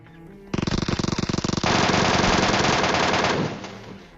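Gunfire from an MK14 rifle in PUBG Mobile: a fast burst of sharp rapid shots lasting about a second, followed by a denser sustained volley of overlapping fire that fades out near the end.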